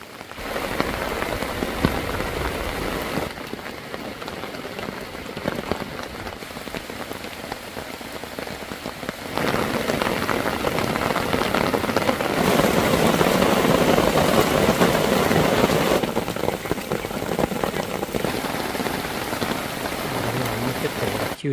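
Heavy rain drums steadily on a camping tent at a campground in Saraburi, Thailand, a dense continuous patter that swells louder midway and stays close and enveloping throughout.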